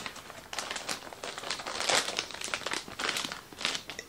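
A plastic packaging bag crinkles and rustles continuously during an unboxing, with loud, close, irregular crackling bursts throughout and no voices.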